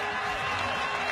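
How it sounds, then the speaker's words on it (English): Applause at a cricket match as teammates stand for Sharjeel Khan's century, a brief steady wash of clapping from a crowd, heard at middle distance. "His teammates stand to applaud him."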